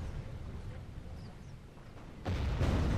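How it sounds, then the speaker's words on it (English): Artillery in the Third Age Total War battle game, a heavy booming impact arriving near the end after a stretch of low rumbling battlefield ambience. "we can focus artillery fire on enemy units instead of buildings"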